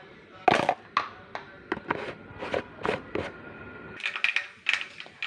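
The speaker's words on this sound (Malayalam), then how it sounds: "കടുക് പൊട്ടി" Mustard seeds, about a quarter spoon, pop in hot coconut oil: a quiet scatter of sharp crackles and snaps coming at irregular intervals, more than a dozen pops, growing busier toward the end.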